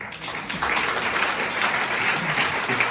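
Applause from an audience at a talk, a broad wash of clapping that swells after the first half second and holds steady, fairly loud and without speech over it.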